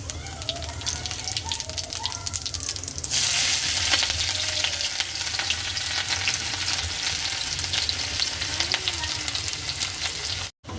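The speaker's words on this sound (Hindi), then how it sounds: "तेल हो गया गरम, मैं डाल दूंगी हींग और जीरा।" Asafoetida and cumin seeds crackle and sizzle in hot oil in a home kitchen, a dense continuous frying hiss that swells after a few seconds, close and loud with no speech.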